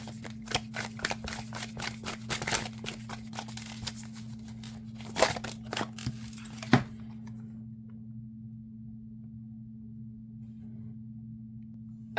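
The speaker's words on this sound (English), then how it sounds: "And overhand shuffle is nice as well." Tarot cards with black edges shuffled overhand in quick, irregular bursts of soft papery slaps, stopping halfway, followed by quiet with a steady electrical hum underneath.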